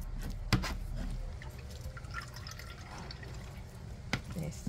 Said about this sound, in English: And all the juice come out.